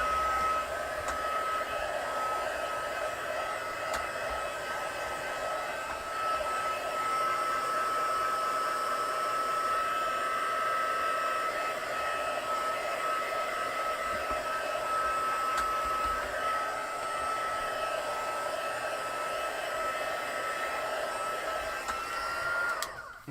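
A hair dryer drying off a craft card runs as a steady, close whooshing blow with a faint whine, held without a break for over twenty seconds until it is switched off, with no talking.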